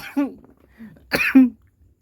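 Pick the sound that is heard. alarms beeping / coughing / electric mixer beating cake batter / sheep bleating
coughing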